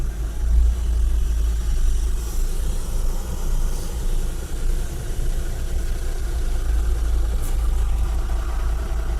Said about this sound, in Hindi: अभी आगे बहुत ट्रैफिक है, मैं दिखाती हूँ, रुको।